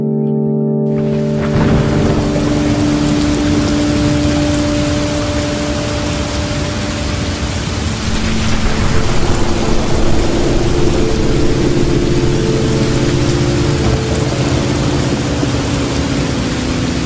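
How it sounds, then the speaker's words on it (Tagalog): Heavy nighttime rain in a film scene pours as a dense, steady wash of noise, with sustained low musical tones underneath throughout. "Sobrang lakas po kasi ng ulan ng gabing iyon."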